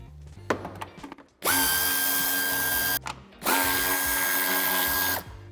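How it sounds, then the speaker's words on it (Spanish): A power tool removes the 8 mm bumper screw and 10 mm tail light screws on a 2019 BMW 2 Series Gran Coupé (F44): two long, loud, steady whirring runs close by, with brief clicks and handling noise before them. "quitamos el tornillo que sujeta el paragolpes de cabeza de 8 y con cabeza de 10 los tornillos que sujetan el piloto."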